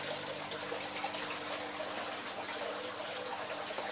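Small air compressor bubbling water in a flooded aquaponic greenhouse, a steady close wash of fizzing, trickling water with a faint low hum underneath, continuous and even, no talking.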